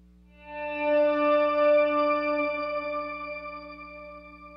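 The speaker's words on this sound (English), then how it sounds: "On top of the volume swell effect is a shimmer reverb." A guitar note swells in gradually from silence, blooming into a shimmering, octave-bright pitch-shifted shimmer reverb wash that sustains and slowly fades.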